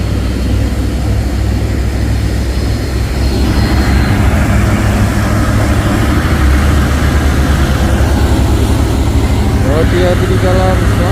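Truck trailer engine running, a heavy low rumble that holds steady throughout, loud and close, with someone talking over it.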